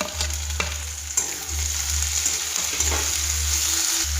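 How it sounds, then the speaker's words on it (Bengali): Chopped tomato dropped into half-fried onions for a homemade prawn pasta sizzles and crackles steadily in the pan, with a few stirring clatters, loud and close with no voices. "এই অর্ধেক ভাজা পেঁয়াজের মধ্যে দিয়ে দেব টমেটো কুচি।"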